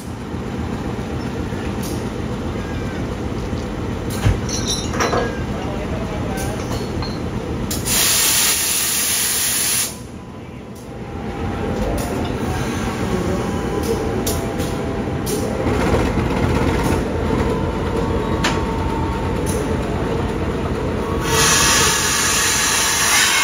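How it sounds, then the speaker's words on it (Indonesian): Sawunggali passenger train departing on the Jakarta–Semarang line: a steady close rumble of rolling wagons with bursts of hissing air and brake noise, continuous throughout with no talking. "Tepat pukul 7 lebih 5 menit kereta Sawunggali diberangkatkan"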